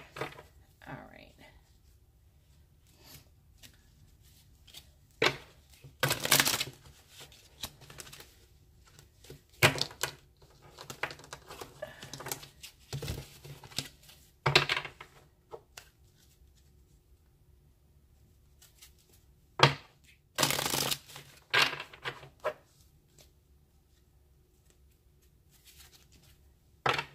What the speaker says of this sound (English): here are the angel answer cards. I'm going to shuffle them